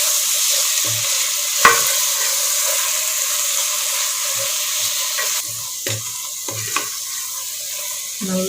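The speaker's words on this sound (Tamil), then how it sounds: "போட்டு எல்லா மசாலையும் நல்லா கலக்கி விட்டுக்கோங்க" A spoon scrapes and stirs egg biryani masala gravy in a hot pan, with a soft continuous sizzle underneath and a few sharp clinks of utensil against metal, close and unaccompanied by talk.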